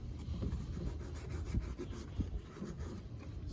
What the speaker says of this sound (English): I'm going to sand the neck a little bit to clean it up